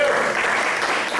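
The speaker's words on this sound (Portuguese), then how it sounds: "Você pode aplaudir a Jesus?" A church congregation bursts into dense, sustained applause, loud and close, filling the space for a short stretch with a faint voice under it.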